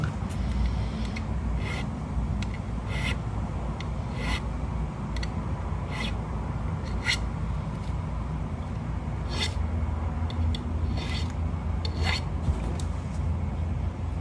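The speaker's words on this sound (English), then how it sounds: "It's just a fingernail file." A fingernail file rubs along guitar fret ends in steady one-direction strokes, soft close scraping with a repeating rasp rhythm throughout.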